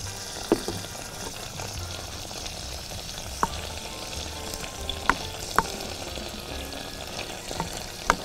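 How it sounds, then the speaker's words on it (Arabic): Liver, garlic and bell peppers sauté in oil with a constant crackling sizzle. A few sharp clicks and pops stand out above it, and no one talks. "هسيبهم كده يتشوحوا في بعض"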